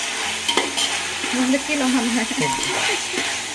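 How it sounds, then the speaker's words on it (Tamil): Carrots, beans and potatoes being sautéed in a pan for paneer biryani, with steady frying sizzle and scraping stir strokes close by, mostly alone with no talk. "ஸோ கேரட்டு, பீன்ஸு அப்புறம் உருளைக்கிழங்கு போட்டு நல்லா வதக்கலாம்."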